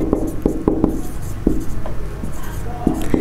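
Pen strokes tap and scratch across paper as a word is written out, a series of short, sharp, close strikes with quiet rubbing in between.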